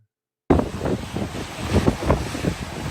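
After a brief silence, strong wind roars and buffets the microphone in loud, rough gusts.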